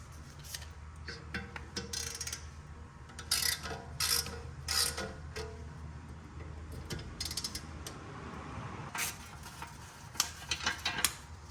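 A ratchet works T30 screws out of the dust shield on a 2005–2011 Audi A6 Quattro, giving soft clicking ratchet runs and brief metallic taps in short bursts, close but quiet against a low background hum.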